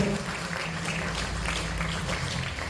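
A crowd at an apartment residents' general meeting applauds during a prize draw, with dense, steady clapping that fills the room throughout. A faint voice carries underneath.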